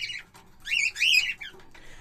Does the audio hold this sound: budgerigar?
yes